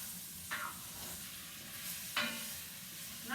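Venison stew meat browning in a pot, giving a faint steady sizzle, with two or three soft scrapes of a spoon stirring it.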